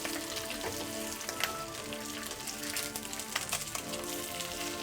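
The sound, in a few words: beef bacon frying in a skillet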